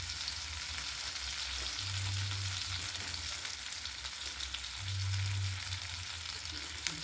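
Spices with grated ginger, garlic, chili and a piece of tomato sizzle steadily in a pan of oil, a continuous bright hiss that swells twice for a moment, with no voices over it.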